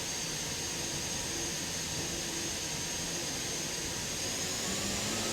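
Offshore racing powerboat with 5,000-horsepower turbine engines revving, a steady loud jet-like roar with a high whine that rises slightly toward the end, continuous and alone without talk.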